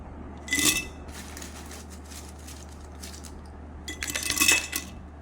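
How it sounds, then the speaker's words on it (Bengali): Fried greens are filled into a glass jar, producing two brief bursts of bright clinks and chinks against the glass over a quiet, steady room hum. "এখন বয়মে ভরবে কাচের বয়মে"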